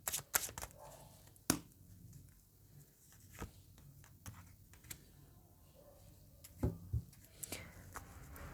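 Tarot cards are shuffled by hand at close range, with a series of sharp, irregular snapping and riffling bursts separated by quiet gaps and soft handling noise.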